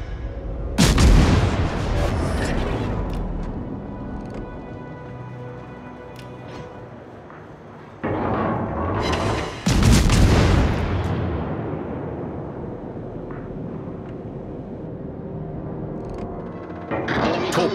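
Naval artillery booms in World of Warships during a cruiser Yahagi battle, three heavy salvos with long rumbling decays and a fourth starting at the end, loud and close.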